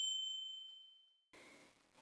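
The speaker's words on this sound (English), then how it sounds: "The bell above it makes a soft sound." A small bell above a coffee shop's wooden door gives one clear ding that rings and slowly fades, followed by a burst of hissing rain-like noise.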